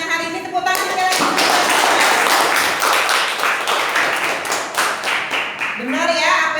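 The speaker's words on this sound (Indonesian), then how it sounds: "Tepuk tangan sekali lagi." A classroom of students claps together in a steady, dense patter that fills most of the moment, with a teacher's voice briefly heard before and after the applause.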